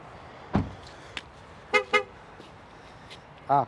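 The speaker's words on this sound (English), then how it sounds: "because the car is still running, it's horning me" A Ford Mustang Mach-E car horn honks in short bursts, a double toot followed later by another, fairly close over a quiet background.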